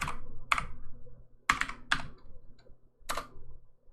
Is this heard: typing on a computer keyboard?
yes